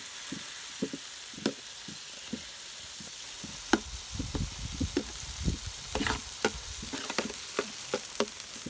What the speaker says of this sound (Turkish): Kıyma pişsin biraz suyunu çekene kadar